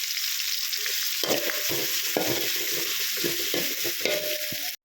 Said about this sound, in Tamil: வெங்காயம் வதங்குறப்ப கொஞ்சம் இஞ்சி பூண்டு பேஸ்ட்டு சேர்த்துக்கிறேன்